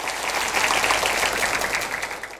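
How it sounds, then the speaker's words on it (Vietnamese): Audience applause after a cải lương (Vietnamese folk opera) performance on a televised contest stage: dense, sustained clapping from a large crowd, steady and loud throughout, fading slightly at the end. "Một tràng vỗ tay thưa quý vị."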